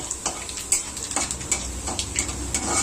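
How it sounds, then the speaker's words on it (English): Cumin seeds fry in a pan for a sweet pumpkin dish, with a steady close sizzle broken by small crackling pops and occasional stirring taps. "put some cumin seeds over here in the pan and let it be fried"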